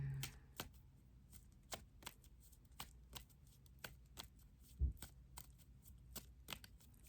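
A deck of playing cards shuffled in a quiet room, with sharp riffling bursts and soft slaps recurring irregularly across several seconds, close and alone with no voices.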